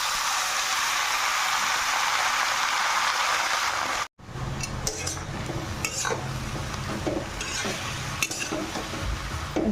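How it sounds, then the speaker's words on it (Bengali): Cut potato, spinach and eggplant stir-fry together in a wok: a loud, dense sizzle first, then after a brief break, close scraping and clinking of a spatula stirring over a softer crackle. "সব একসঙ্গে আলু পালক শাক আর বেগুন সব কেটে রাখা একসঙ্গে আমি কড়াইয়ের মধ্যে"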